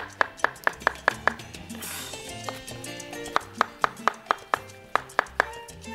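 Knife chopping fresh mushrooms lengthwise on a cutting board, a quick rhythmic series of close, sharp taps that pauses briefly midway, then resumes in a steady run.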